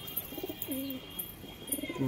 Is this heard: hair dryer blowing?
no